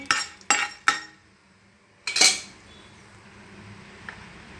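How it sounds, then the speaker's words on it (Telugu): Peppercorns and a couple of cloves dry-roast in a pan, three sharp metallic clinks of a spoon in quick succession, then a louder scraping rattle, followed by near quiet with one faint tap. "మళ్ళీ స్టవ్ వెలిగించేసి మిరియాలు వేయించుకుందాం లైట్గా మిరియాలు రెండు లవంగాలు వేసానండి"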